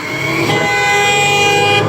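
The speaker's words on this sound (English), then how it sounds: "See, he honked at him, and now the other guy honked at him." Car horns honk in city street traffic, one long, loud, sustained blare over a steady traffic roar, close by.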